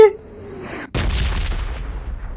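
Gunfire in the battle royale game PUBG Mobile: a sharp, loud shot bursts in suddenly near the middle and then rings out with a long reverberant tail, following a quieter, tonal stretch at the start.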